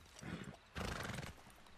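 A horse in the Red Dead Redemption video game whinnies in a short, loud burst, preceded by a softer snort, with no talking over it.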